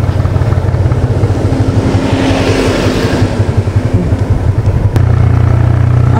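Motorcycle engine running steadily while riding down a steep zigzag coastal road toward a lighthouse point, a loud, close, continuous low drone with rough texture and a brief change near the end; no talk.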